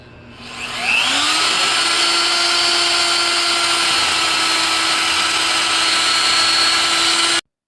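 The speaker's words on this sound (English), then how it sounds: "So I'm gonna mount my mag drill and then try to drill this out." A magnetic drill bores into steel, spinning up with a rising whine, then holding a loud, steady high-pitched motor drone close by before cutting off abruptly.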